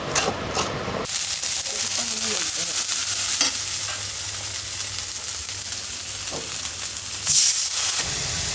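Hilsa fish frying in a pan with oil, a steady sizzle and stirring scrape running throughout, loud and close, with a brief burst of clatter at the start and a flare of hiss near the end.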